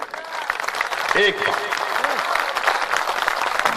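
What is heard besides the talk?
audience applause at Hindi poetry gathering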